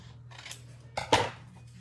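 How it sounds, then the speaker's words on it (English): Scissors cutting a slimline card: a couple of crisp, close snips near the one-second mark, with a faint rustle of card stock before them in an otherwise quiet room. "So I'm just going to cut this slimline."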